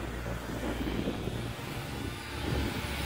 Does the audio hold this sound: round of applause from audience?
no